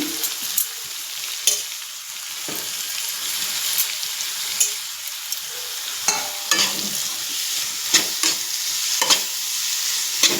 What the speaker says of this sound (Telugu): సొరకాయ తురుము కొంచెం బాగా వేపుకోవాలండి